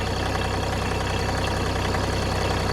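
A Kupke snowplow engine idles at a camp road, a steady, even low rumble with a regular pulsing throb that runs unchanged from start to finish, close and fairly loud, with no one speaking over it.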